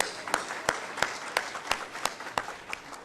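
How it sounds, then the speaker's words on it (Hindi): Applause at a Punjab government launch ceremony, a spread-out crowd clapping with distinct individual claps at a fairly regular pace, moderate and steady throughout. "जोरदार तालियां बजाइए"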